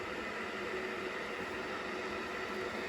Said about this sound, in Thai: เสียงที่ได้ยินนี่คือเสียงการต้มน้ำร้อนอยู่นะครับ